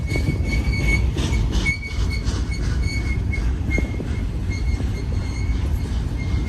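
A westbound BNSF stack train led by GE ET44C4 and C44-9W locomotives rumbles past close by, wheels clattering over rail joints with occasional high metallic squeals, loud and continuous throughout.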